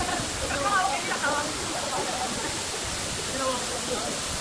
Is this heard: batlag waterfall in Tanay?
yes